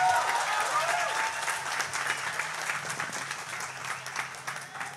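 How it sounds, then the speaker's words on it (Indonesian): Sustained applause from a large audience at a public event, dense clapping steady throughout with a faint crowd murmur underneath. "Ya tepuk tangan kita semuanya."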